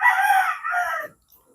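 A rooster crows once, loud and close, a ringing call about a second long that stops abruptly, followed by quiet.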